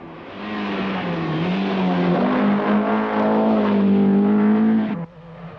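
An Austin Rover rally car on a stage of the 1986 Manx International Rally drives past steadily, its engine note loud and sustained, rising and falling slightly before cutting off abruptly near the end.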